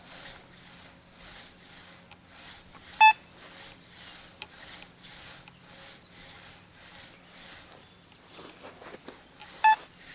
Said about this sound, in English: Notice it's ringing higher.